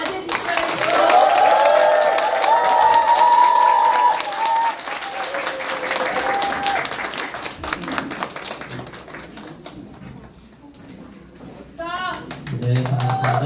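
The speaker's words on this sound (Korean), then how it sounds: "큰 박수로 맞이해 주시기 바랍니다" A seminar audience at a Unicity business event applauds loudly to welcome a speaker to the stage, clapping strong at first and thinning out, with music and a voice beginning to speak near the end.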